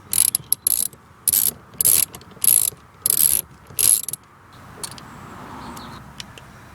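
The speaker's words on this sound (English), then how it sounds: "using the Torx bit I've managed to get both of those screws out" A ratchet with a Torx bit clicks in several short bursts while undoing screws on a Jaguar X-Type, loud and close, then fades into quiet rustling near the end.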